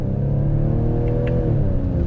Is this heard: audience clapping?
no